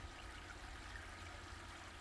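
Water pours steadily while a koi pond is being topped up, a constant close rush and trickle with no breaks and no talking.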